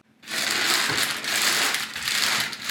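A plastic bag holding bare root David Austin roses crinkles and crackles as it is unpacked, close and loud, in bursts of rustling handling that run on for a few seconds with no talking.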